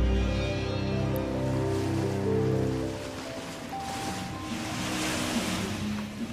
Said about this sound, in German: Die zerklüftete Küste, die bizarren Felsnadeln im Meer.